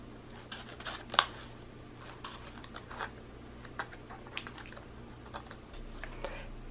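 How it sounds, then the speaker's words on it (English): Small scissors snip pieces of thin wafer paper for cake decorating, with a series of soft, close, crisp cuts separated by short pauses against a quiet room. "And I'm going to cut a few pieces of wafer paper."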